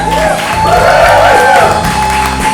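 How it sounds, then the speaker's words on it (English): Audience at a live magic show night cheering, whooping and clapping in a loud continuous burst of crowd noise close to the microphones. "Give me some noise. Give me some applause."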